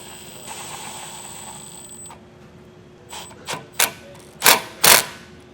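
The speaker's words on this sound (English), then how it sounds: "I'm going to get an 8mm socket and get this clamp tightened down." Ratcheting 8mm socket tightening a clamp while installing a trailer brake controller kit on a Subaru, a few sharp mechanical clicks growing louder toward the end over a faint steady hum.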